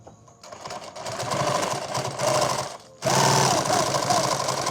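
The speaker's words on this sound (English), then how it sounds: "Let's go ahead and sew this on right here" An industrial sewing machine stitches bag material for a six-magazine shooter bag, a lid being sewn on; steady mechanical whirring in bursts, pausing briefly before resuming loud and close.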